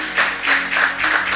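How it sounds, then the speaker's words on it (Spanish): Church congregation applause, a short burst of rhythmic, pulsing clapping that swells and recedes in regular waves, moderately loud and close. "le vamos a dar un fuerte aplauso"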